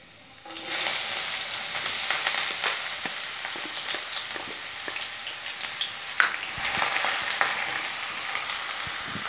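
Finely chopped onion hits a pan of hot oil with garlic and asafoetida for sarson ka saag, bursting into a loud, crackling sizzle that continues steadily, with occasional stirring scrapes and a brief surge near the end.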